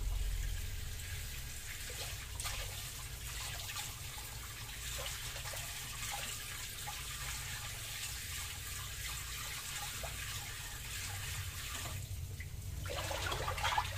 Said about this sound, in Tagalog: Tuloy ko lang yung paghugas ng kangkong